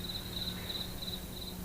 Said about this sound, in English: The crickets were chirping along the path